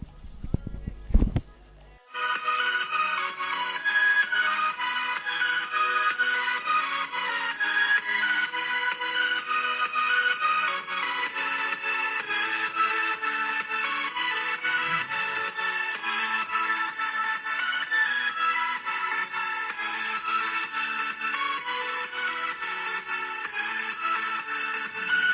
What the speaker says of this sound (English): So now let's try the music, and this phone have stereo speaker.